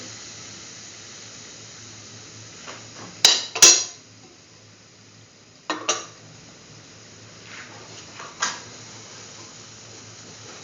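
Chickpea flour being mixed with ghee in a pan, heard as a few scattered metallic scrapes and clinks of a utensil against the pan over a quiet background hiss.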